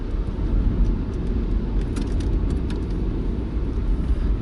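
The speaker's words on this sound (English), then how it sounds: "How the car moves and steers. It's very agile." A Skoda Citigo drives on a cold road, giving a steady low rumble of engine and road noise throughout with faint light rattles on top, no voices.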